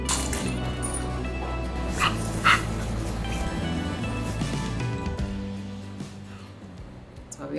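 A dog whimpers and lets out a few yips and barks over steady, busy background noise in an indoor setting, with faint talk underneath.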